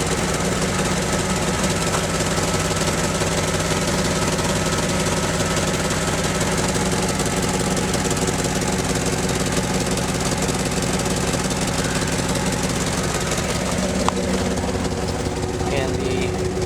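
A close, rough Jeep ZJ 5.9 engine with exhaust leaks around the joints idles steadily with a deep rumble and a rapid, uneven ticking pulse running throughout.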